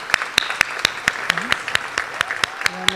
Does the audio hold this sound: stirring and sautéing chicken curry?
no